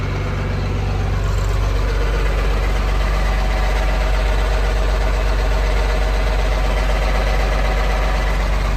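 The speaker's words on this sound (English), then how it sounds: "Maybe you can get a little more sound of the motor here." A 1992 John Deere 4055 tractor engine idles loudly and steadily up close, a continuous low rumble that never changes.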